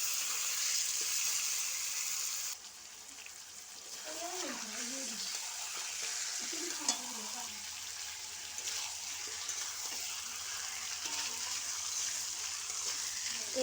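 Chicken kosha sizzles steadily in a pan as it is stirred, a close, constant hiss of frying with faint scraping, while a voice speaks softly over the middle stretch.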